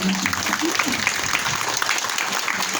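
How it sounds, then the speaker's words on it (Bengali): Many children clap together in a steady, dense round of applause that continues for the whole stretch, with a few voices faintly audible beneath it. "তোমরা যে অভ্যাগত সুধী যারা আছে সবার জন্য একটা হাতে তালি দাও তো"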